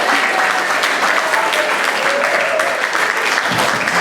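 Audience at a quiz awards presentation applauds and cheers the winning teams, a loud, dense, continuous clatter of clapping filling the room throughout.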